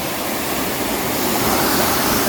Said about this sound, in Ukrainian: Дивіться, друзі, який водопад красивий.